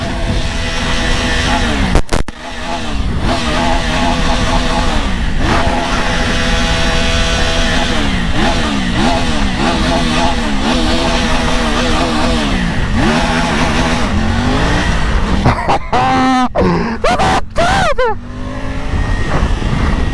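A Triumph Tiger 900 motorcycle engine revs hard and loud throughout a wheelie ride through a city neighborhood, pitch rising and falling repeatedly with sharp throttle bursts and gear changes near the end.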